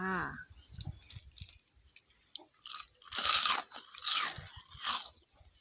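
Crisp batter-fried enoki mushrooms crunch as they are bitten and chewed up close, several sharp crackly bites in a row, with a brief voice at the start.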